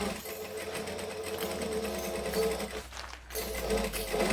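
A sewing machine back stitches through a bag lining, its needle clattering in a fast, steady mechanical whir with a brief pause midway before running on.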